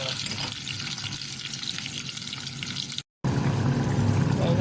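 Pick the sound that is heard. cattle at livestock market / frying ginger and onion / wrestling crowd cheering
frying ginger and onion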